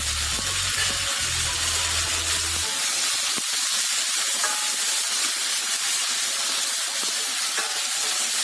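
Roughly chopped onion and tomato sizzling in hot olive oil, a loud, even, bright hiss running steadily throughout, with a low hum fading out early on.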